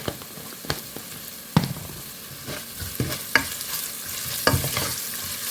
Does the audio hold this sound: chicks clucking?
no